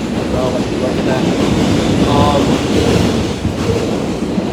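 Subway train running on rails, with a continuous loud rumble and rattle heard from inside the carriage. Faint voices mix into the din.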